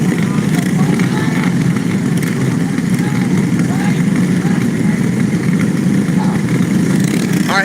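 Several go-kart engines idle and buzz together at a short dirt track race in Hanceville, Alabama, a dense continuous drone with a voice talking over it throughout.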